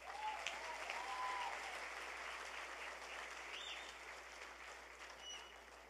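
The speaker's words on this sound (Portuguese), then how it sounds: "Dá mais uma salva de palmas aí." Faint, distant applause from a church audience, a soft steady patter that fades slightly over several seconds, with thin high whistling or chirping tones drifting above it.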